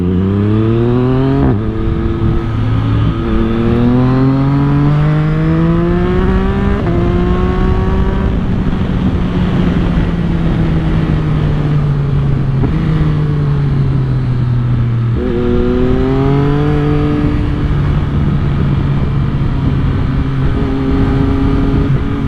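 A 2022 Yamaha MT-09 motorcycle with a tuned ECU accelerates hard from up close, its engine note climbing steeply through the gears, dropping briefly at each shift, then rising again as a loud continuous roar.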